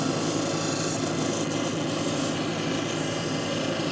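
A Brazilian agate cabochon is ground on a lapidary wheel to remove scratches, producing a steady, loud, continuous rasping grind with a constant motor hum, heard alone with no pauses.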